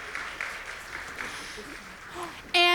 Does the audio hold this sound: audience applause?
yes